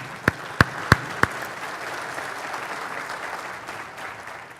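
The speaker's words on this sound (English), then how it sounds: "a big applause to Jan Harzan." An audience at a UFO symposium bursts into applause after a few sharp, distinct claps at the start, settling into a steady, loud wash of clapping from a large indoor crowd.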